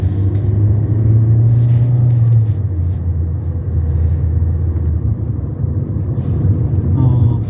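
A car rolls past in traffic with a loud, steady low engine and road rumble, wind buffeting over it, no speech.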